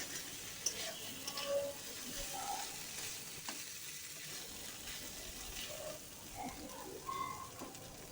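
Sliced karela sizzles quietly in a frying pan with intermittent stirring scrapes and occasional clinks, a soft, even crackle close by with no voices.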